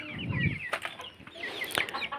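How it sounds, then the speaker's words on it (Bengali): Several small tiger chicken chicks peep and cheep in quick, high chirps close by, with a soft low cluck early on. "এখানে দেখতেছেন, আর 5টা টাইগার মুরগির বাচ্চা আছে"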